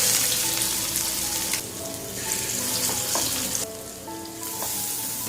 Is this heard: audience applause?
no